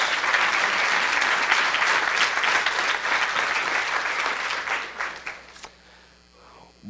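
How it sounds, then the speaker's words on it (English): A congregation at a baby dedication service applauds with full, energetic clapping that thins out after about five seconds into scattered claps, followed by near quiet and a faint voice. "Give a round of applause."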